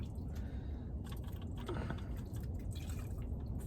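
Gasoline poured into a carburetor and down into the intake manifold makes a steady close liquid trickling and dripping sound, continuous and fairly quiet throughout, with no talking.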